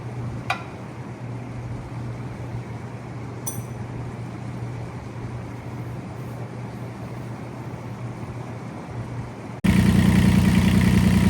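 A Kubota IRE20 mini excavator engine idles in a steady low hum beside an exhaust fan, with a couple of brief clicks early on. The sound jumps to a much louder, denser roar for the final second and a half.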